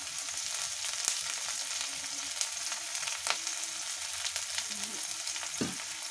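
Onion frying in a pan with beans and other mixed vegetables gives a steady, close hiss of hot oil throughout, with a few soft knocks and stirring touches along the way; no one speaks.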